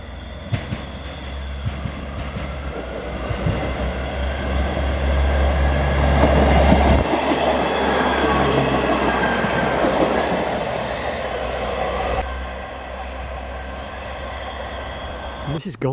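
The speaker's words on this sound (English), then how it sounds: "And here comes the train to Wick." A passenger train to Wick rumbles into Golspie Station in Scotland, wheels clattering and faintly squealing as it slows, steady and fairly close, with a voice speaking over it.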